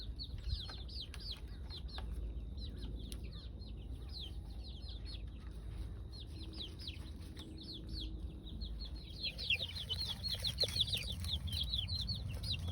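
Four-week-old pullets and young roosters in a free-range homestead flock, giving soft scattered clucks and chirps over steady outdoor background noise, with a busier burst of calls near the end.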